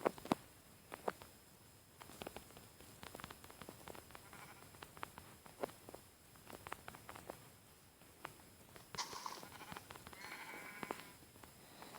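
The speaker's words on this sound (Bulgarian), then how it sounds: "тук виждаме известната овца и ние трепим" A sheep bleats in a video game, with a few quiet bleats and soft pattering clicks spread over a faint, steady background, heard alone without talk.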